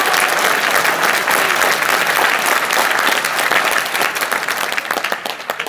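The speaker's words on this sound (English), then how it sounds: "So let's hear it for all those teams." A crowd at the University of Minnesota FIRST Robotics 2015 kickoff applauds the robotics teams with loud, sustained clapping that tapers slightly toward the end.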